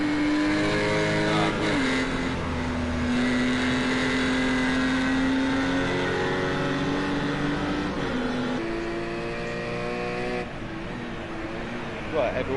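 GT4 race cars roar through a Nürburgring sprint in a racing video game, a loud continuous engine drone whose pitch climbs and drops with gear changes and overlapping cars.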